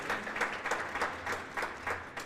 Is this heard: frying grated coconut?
no